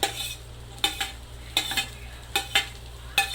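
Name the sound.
green chillies frying in tempering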